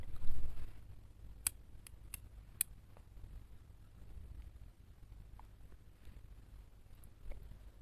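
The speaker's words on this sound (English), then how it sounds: "Now you need to cut the yarn." Scissors snip through yarn at a crochet amigurumi heart keychain, giving several sharp, quiet clicks in a short cluster over a low hum, then a few softer handling sounds.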